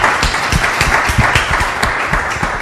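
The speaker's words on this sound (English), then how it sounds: "So can we give a round of applause for Chim and all the work she's done?" An audience at a live conversation event claps for a woman named Chim, a dense, even burst of many hands sounding close and steady throughout.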